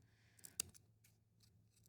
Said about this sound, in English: we're just going to use our scissors and our helper hand, and you're just gonna make two little cuts towards the middle.